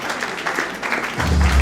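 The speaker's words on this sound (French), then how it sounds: "Est-ce qu'on peut bien l'applaudir, s'il vous plaît?" Audience applause at the Nzonzing Awards ceremony, a short burst of dense clapping that swells toward the end with a low rumble underneath.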